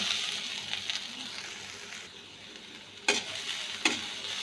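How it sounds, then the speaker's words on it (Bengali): A cabbage and rice flour mixture fries in a little hot oil with a steady sizzle, broken by two sharp utensil scrapes and knocks against the pan. "এখন আমি নাড়াচাড়া করে একটু ভেজে নেব"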